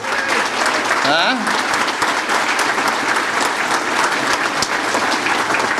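Loud, dense applause at a celebrity breakfast welcoming a guest to Danbury, continuous clapping from a sizable crowd with a brief whistle or cheer near the start and voices mixed underneath.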